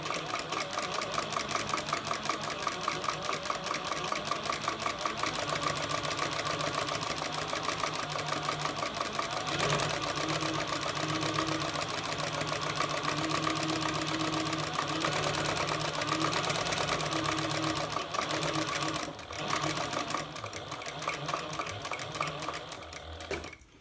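A sewing machine stitches the edge of a handbag shoulder strap in one long, steady, fast, mechanical whirr with rapid ticking, broken only briefly about halfway through and easing near the end.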